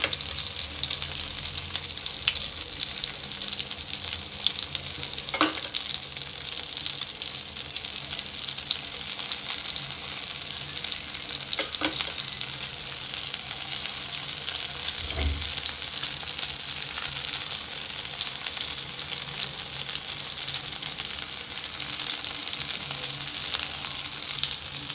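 Brinjal pieces and an egg mixture of onion, chilli, salt and turmeric fry in a pan with a steady, close sizzle, broken by a few soft clinks of a utensil.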